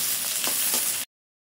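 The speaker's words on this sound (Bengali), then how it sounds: "পেঁয়াজ দিয়ে একটু লাল লাল করে ভাজা নেব।" Onions and garlic fry in hot oil in a wok, giving a loud, steady, close sizzle with no voices that runs for about a second and then stops abruptly.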